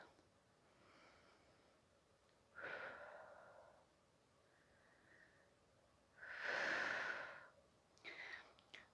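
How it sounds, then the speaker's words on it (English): Slow, deep breaths during a vinyasa yoga flow, a soft airy inhale and a louder, longer exhale, close and quiet with no speech. "Big breath."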